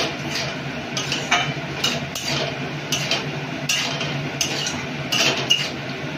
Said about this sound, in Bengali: এর মধ্যে আমি ভাজা আলুগুলো দিয়ে একটুখানি কষিয়ে নেব।